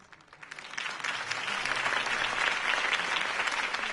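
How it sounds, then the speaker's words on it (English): A crowd in Batman: The Telltale Series applauds a campaign speech steadily, the clapping building quickly from a light start into a dense, sustained wash of many hands. "could have heard that applause"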